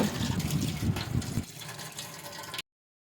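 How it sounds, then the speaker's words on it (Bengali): Three kinds of lentils, including split chickpeas and red lentils, are washed in water, giving a steady splashing and sloshing of liquid for about two and a half seconds before it cuts off. "এবার আমি ডালগুলোকে আলাদা আলাদা করে ধুয়ে নিব"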